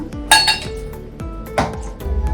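Metal spoon clinking against a cooking pot while turmeric is added to chukkakura pappu, a few sharp close rings and taps spread over two seconds.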